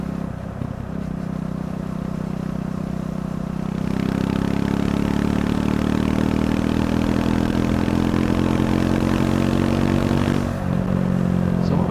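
A Triumph Scrambler 400 X motorcycle engine hums steadily in sixth gear around 40, then pulls harder with a rising drone as it accelerates, easing off near the end.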